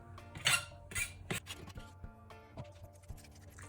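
A utensil mixes a tuna and mayonnaise filling for onigiri in a bowl. Soft scraping is broken by sharp metallic clinks against the bowl's side, irregular and close up, with no talk.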